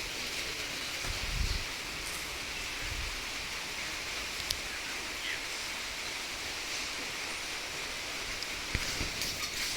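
Steady rain pours down outdoors, a dense, even hiss with occasional louder drips and thuds close by, continuous throughout with no talking.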